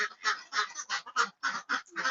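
Ducks on a regenerative farm cleaning up manure give a rapid run of loud, close honking quacks, about ten bursts in two seconds, overlapping and nearly continuous with no talking.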